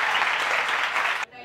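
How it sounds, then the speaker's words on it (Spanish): An audience bursts into loud, dense applause that fills the moment and then cuts off abruptly near the end. "Un aplauso para Julián Álvarez."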